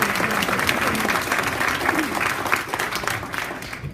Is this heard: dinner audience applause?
yes